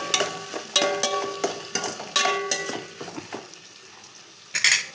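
Four tomatoes are being sautéed in a pan for a soya chunk (meal maker) rice dish, with a spoon clinking and scraping against the pan in irregular strokes over a soft frying sizzle, close and fairly clear, with no talk.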